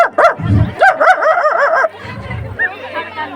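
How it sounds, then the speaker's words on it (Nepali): Dog barking close by in a rapid series of loud, yelping barks with whiny tones, followed by quieter whimpers, with people talking around it. "कुकुर पनि कराएको छ यार हो"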